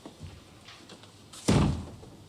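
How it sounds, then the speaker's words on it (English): A door is shut with a single loud, heavy thunk after a second or so of quiet room ambience, ringing briefly before it fades. "Shut the door, Wilson, please."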